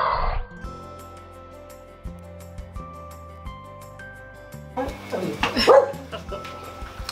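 A dog barks and yips in a loud cluster of sharp barks toward the end, after a stretch of background music with little else.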